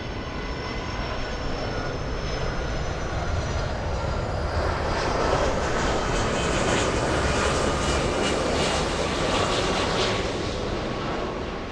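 A United Airlines Boeing 757 jet roars at LAX, a loud continuous engine rush that swells toward the middle and holds steady, with no voices.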